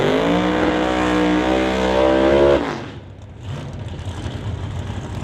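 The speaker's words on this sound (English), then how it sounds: "back with the beautiful 66 Acadian Canso with the supercharged small block Chevy" A 1966 Acadian Canso with a supercharged small block Chevy at a drag strip: a loud, rising harmonic engine roar that peaks and cuts off sharply, then fades into a distant rumble and crowd or track ambience.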